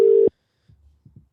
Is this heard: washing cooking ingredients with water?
no